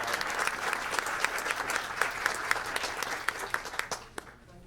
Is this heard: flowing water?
no